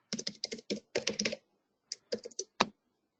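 Someone types a username and password on a computer keyboard: two quick runs of crisp key clicks, close and clear, separated by a short pause, ending on one harder keystroke.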